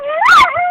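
A young child imitates an ambulance siren with a single rising and falling wail, close and fairly loud, lasting under a second.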